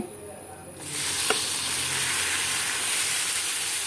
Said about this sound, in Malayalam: നല്ല ഒന്ന് മൂത്ത് വന്നതിന് ശേഷം വെണ്ടക്ക അതിലേക്ക് തന്നെ ഇട്ട് കൊടുക്കുക